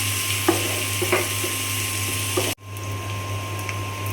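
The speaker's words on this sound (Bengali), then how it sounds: "তো তেলের মধ্যে আমি পেঁয়াজ দিয়ে দিলাম।" Sliced onions hit hot frying oil and sizzle in a steady, close hiss with a few soft pops, broken by a sudden cut before the frying continues alone.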